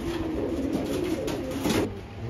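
Pakistani high-flying pigeons, a Sialkot hen and a Salara-bred cock, coo in low throaty repeated calls close by, with a faint steady background hiss.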